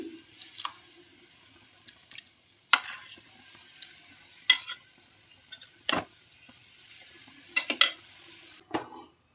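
Washed barnyard millet (bhagar) is stirred into boiling salted water: a spoon scrapes and clinks against the pot in sparse, separate strokes against a quiet background.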